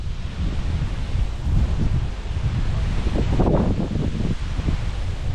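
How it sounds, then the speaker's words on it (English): Steady wind blowing through woodland on a sunny day, a broad rushing roar with gusts swelling and easing, close to the microphone and alone. "The wind is blowing"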